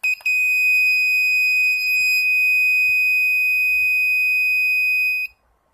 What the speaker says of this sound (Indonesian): Saat 20, maka buzzer akan menyala selama 5 detik.